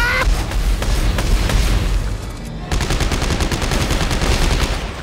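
Rapid gunfire hammers away while enemies are shot down in the video game Dead Space 3, a loud, dense stream of shots with a brief pause in the middle.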